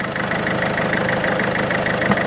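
A car engine idles steadily after a repair for a rough, vibrating idle, giving a loud, even, close-up rumble with a regular pulsing rhythm and no stumbles.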